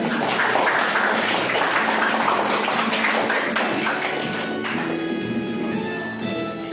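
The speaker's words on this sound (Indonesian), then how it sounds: "tepuk tangan untuk kita." A classroom full of students clapping steadily, a dense, loud wash of applause that holds for several seconds before thinning slightly at the end.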